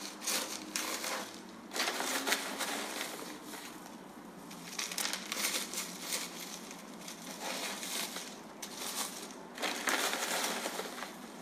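Potting mix being pushed and pressed down into an orchid pot, a run of faint crunchy, rustling scrapes in irregular bursts, close up and with no talking.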